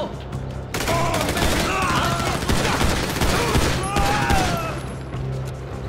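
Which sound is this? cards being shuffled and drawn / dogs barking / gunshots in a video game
gunshots in a video game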